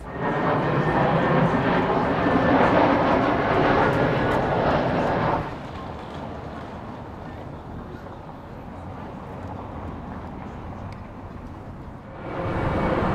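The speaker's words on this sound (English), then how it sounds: "Despite the airplanes" An airplane roars loudly overhead above a Lisbon residential street in the Estrela neighbourhood for about five seconds, then the engine noise fades to a lower, steady drone before swelling again near the end.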